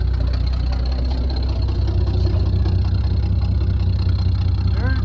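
An old 1961 GMC panel truck engine idles steadily and loudly up close, a dense low rumble running without a break for the whole stretch, with faint chirps near the end.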